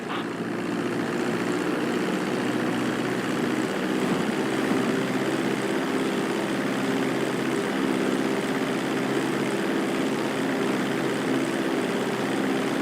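Airplane engines in GTA V hold a steady, loud propeller drone throughout a landing approach, an even, unbroken hum with no voices over it.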